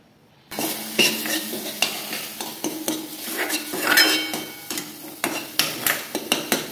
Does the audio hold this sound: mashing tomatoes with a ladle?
yes